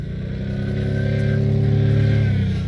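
A vehicle engine revs hard and steady as it tries to drive out of packed snow ruts, a loud, close, rising drone held for a few seconds without talk.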